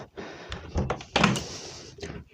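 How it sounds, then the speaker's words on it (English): A travel trailer's front door is handled, giving a few dull thunks and knocks, with one louder clunk near the middle, close by and separated by short pauses. "here's the front door to the travel trailer."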